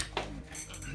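An adjustable spanner is picked up during rusty exhaust-stud repair work, giving a short burst of bright metallic clinks and rattles, close and fairly quiet.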